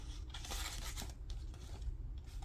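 Scissors cut through collage paper close up with a steady crisp snipping and rasping texture for a couple of seconds, with no talk.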